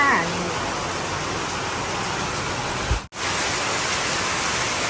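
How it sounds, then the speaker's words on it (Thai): Heavy tropical rain in southern Thailand pours steadily as a dense, even hiss, broken by a brief dropout near the end. "ฝนตกอีกแล้วพี่น้องภาคใต้เรา"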